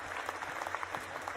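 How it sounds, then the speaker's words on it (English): A short, faint patter of applause from a small audience, quick scattered claps running for about a second. "Round of applause for Mr."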